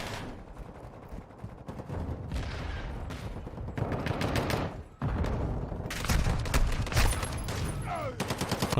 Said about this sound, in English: Right, what's this shotgun like?